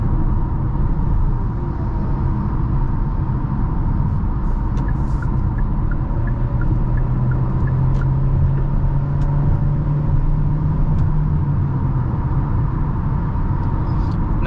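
A 2023 Hyundai Kona Limited's 2.0-litre naturally aspirated engine drones steadily while driving, a continuous low rumble mixed with road and cabin noise at even volume, with a faint rising tone as it accelerates.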